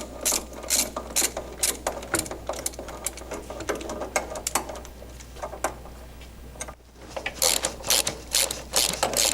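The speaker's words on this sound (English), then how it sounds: "I've got my 9/16 and we're going to take off the end links." A 9/16 wrench ratchets sway bar end links loose on a Mustang, producing rapid bursts of close metallic clicking in irregular runs, with a brief pause partway through before the clicking resumes.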